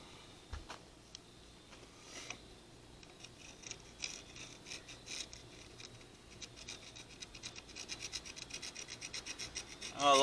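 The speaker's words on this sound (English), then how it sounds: "you shouldn't be dragging that screwdriver across that cylinder" A screwdriver scrapes rust scale off a cylinder of a rusty 350 small-block Chevy engine block, with faint, close scratching strokes that grow quicker and louder toward the end.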